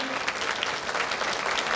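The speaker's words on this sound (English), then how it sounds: "keep that applause going, I can still hear you backstage" Dense clapping from an audience at the end of a palmistry talk fills the moment, steady and fairly loud, with faint voices mixed into the ovation.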